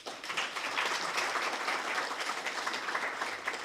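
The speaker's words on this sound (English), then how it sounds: "Please give the group a proper round of applause." At a youth convention, an audience gives a presenting group a round of applause: dense, even clapping that carries on steadily for a few seconds, with no voices over it.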